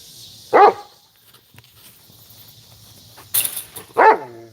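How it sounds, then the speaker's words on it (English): A dog gives two sharp, loud barks a few seconds apart, with a brief rustle between them in an otherwise quiet space. "What are you barking at?"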